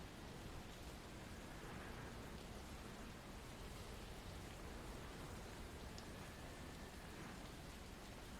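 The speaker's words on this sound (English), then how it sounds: "Oh man, I love a good rainstorm." Steady rain falls during a rainstorm in the video game The Evil Within, a dense, even hiss that holds constant throughout without talk.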